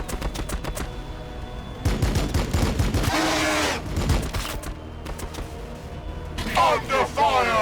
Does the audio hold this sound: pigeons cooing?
no